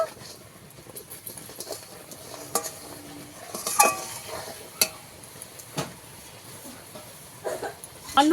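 Fried semolina is stirred into milk and sugar in a pan, giving soft scraping and occasional sharper clinks of a spoon against the pan in an irregular rhythm, close up with no talk.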